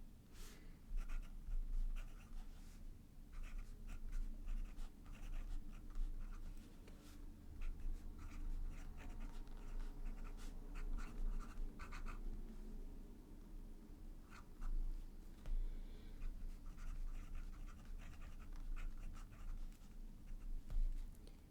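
A fountain pen with Edelstein Tanzanite ink scratching across paper in quiet, continuous strokes at close range, faint and steady over a low background hum.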